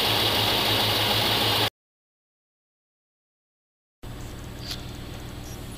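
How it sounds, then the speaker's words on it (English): A GMC 3500 pickup's 454 big-block V8 idles with a steady, dense rumble, cut by a brief gap of silence before the idle resumes, with no talking. "The high idle should have definitely kicked in by now."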